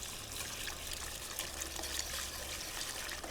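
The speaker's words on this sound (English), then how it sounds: "Okay, milk looks like it's hot, just under simmering. Just gonna pour it in." Hot milk, just under simmering, is poured into a roux for white sauce, giving a soft, steady trickling and splashing that runs continuously for a few seconds without any talk.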